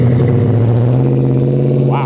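A 1970 Dodge Charger 500 engine rumbles loudly and steadily at idle, deep and close, with a slight rise in revs near the end.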